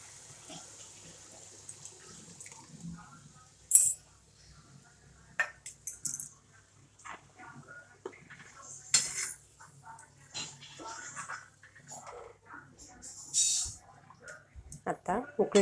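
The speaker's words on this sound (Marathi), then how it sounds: "त्याच्यात हरभऱ्याचं पाणी टाकून घेऊ." Chickpea cooking water is poured into a pan of fried chickpeas and oil, heard as intermittent splashes, clinks of utensils against the pan and scattered kitchen clatter at moderate loudness.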